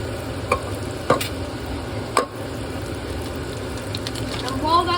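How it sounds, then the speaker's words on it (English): Butter with a small splash of olive oil melting in a pan gives a steady soft sizzle throughout, with a few sharp clinks of a utensil near the start, and a voice talks over part of it. "get about 20 grams of butter and put it in a pan to melt"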